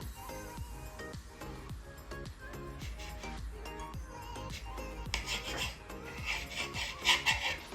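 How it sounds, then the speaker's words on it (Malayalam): A knife saws through a loaf of bread to cut it in two, making a steady run of close, soft rasping strokes that grow a little louder and crisper toward the end. "ഈ ബ്രെഡ് നമുക്ക് 2ആയിട്ടൊന്ന് മുറിച്ചെടുക്കാവേ."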